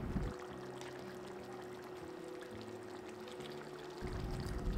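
One cup of water poured into a pan of chicken curry, giving a steady, close pour that runs for about four seconds with no talking.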